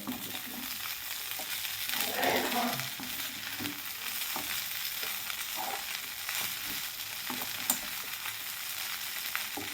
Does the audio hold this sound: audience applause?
no